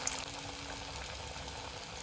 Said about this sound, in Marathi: आता मी यामध्ये लॉलीपॉप तळायला टाकणार आहे.